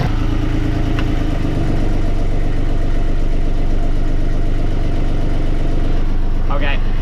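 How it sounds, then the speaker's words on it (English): Steady rumbling idle of a sailboat's inboard engine during an RPM drop test, loud and continuous with a rhythmic mechanical clatter, pitch dipping slightly partway through, with a brief clink near the end. "Now there should be a noticeable RPM drop when I turn the switch."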